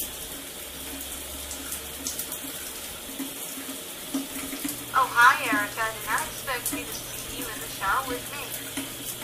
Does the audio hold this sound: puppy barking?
no